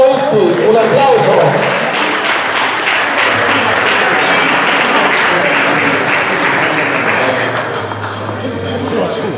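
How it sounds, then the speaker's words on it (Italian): An audience claps steadily and loudly at the prize-giving of the XXI Coppa delle Nevi car race, honouring the winning Fiat 500L crew. The applause is dense and close and fills the whole stretch without a break, easing only slightly near the end. "un applauso"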